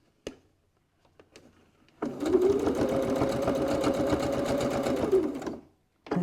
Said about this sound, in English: Don't forget to backstitch.